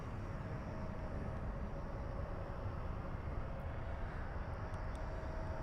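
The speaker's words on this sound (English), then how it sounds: "Qantas taxiing at 15 knots. Soaring down the taxiway." A Qantas airliner taxis at night at DFW airport, a faint, steady jet engine whine and broadband rumble heard from a distance.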